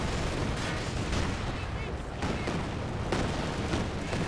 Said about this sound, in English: The land mattress throwing a barrage into that zone right there with everything.